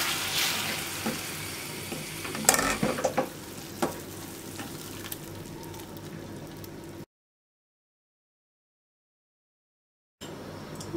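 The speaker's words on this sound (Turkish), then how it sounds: "Bir 5 dakika boyunca kavurduğum soğan ve salça karışımını artık çorbanın içerisine ekliyorum." A sautéed onion and tomato paste mixture going into a pot of wheat soup, sizzling and stirring with a clatter of utensils, then silence before a brief return of sound.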